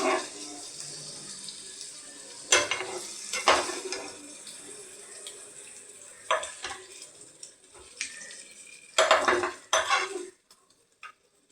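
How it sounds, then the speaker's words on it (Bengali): Steamed cauliflower florets go into hot oil left from frying paneer in a home kitchen, with a steady sizzle broken by several sharp clatters of utensils against the pan, close and fairly loud. "তেলেই আমি এই ফুলকপিগুলো একটু হালকা করে ভেজে নেব"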